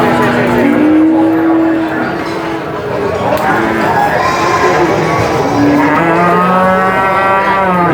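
Cattle at the Purwantoro cattle market in Indonesia, with loud, close moos rising and falling in several long calls, overlapping amid a busy market background.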